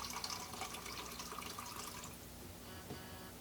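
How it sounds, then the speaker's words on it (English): Water draining from a GLECO sink trap's pipes through a drain tube: a soft, steady trickle and hiss of flowing water, faint and continuous throughout. "drain the water that is in the pipes right now"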